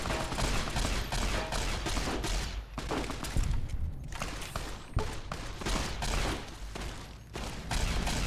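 Rapid bursts of gunfire from a new weapon in the video game Fallout: New Vegas, dense repeated shots with thuds, loud and continuous throughout.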